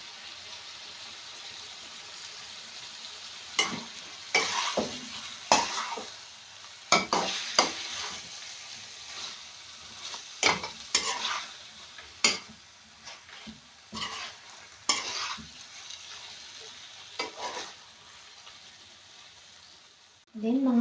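Chicken stirred through a fresh tomato sauce in a pan, with repeated scraping and sloshing strokes over a soft sizzle, the stirring coming in irregular bursts.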